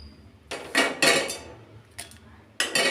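Cooled green chillies drop into a steel mixer jar, a few sharp metallic clatters and knocks in separate bursts with quiet gaps between, close and fairly loud, no talking.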